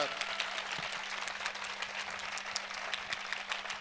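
A church congregation claps loudly and steadily to thank God, dense applause filling the room throughout, with voices underneath.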